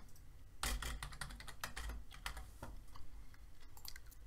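Credentials are typed on a computer keyboard in quick, irregular bursts of soft clicking keystrokes. They sound close but quiet, and no one speaks.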